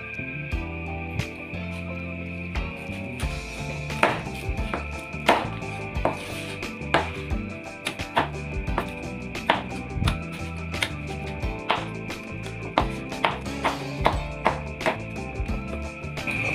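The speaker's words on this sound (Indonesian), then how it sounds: "Oke, saya akan potong dia." A knife cuts through crispy grilled pork in a series of sharp, crunchy chops and crackles that come close up and at irregular spacing over a steady background hum.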